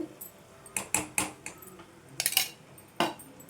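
A spoon stirs a coconut laddu mixture with ghee in a pan, giving a handful of sharp metallic scrapes and clinks in uneven bursts, fairly close and moderately loud, with quiet gaps between.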